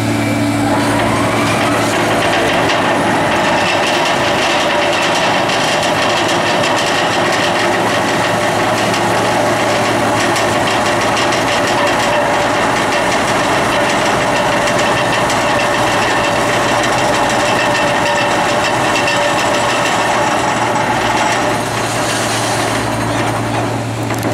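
Vibratory pile-driving machine engine revving steadily as it drives a steel panel into the ground on a construction site, a loud continuous drone with grinding vibration throughout.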